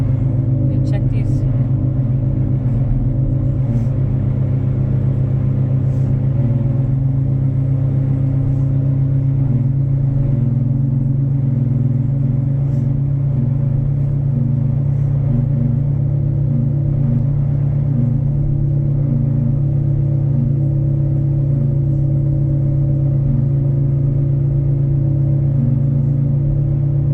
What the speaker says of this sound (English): But definitely an exhaust noise.